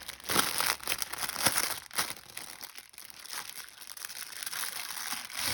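Plastic packaging from a Temu haul crinkles and rustles continuously up close, with sharp crackles and crumpling handling noise and no speech.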